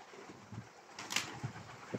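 Pigeons shuffle and flap their wings nearby, giving a short burst of wing flutter amid soft thumps and faint cooing, quiet and unaccompanied by speech.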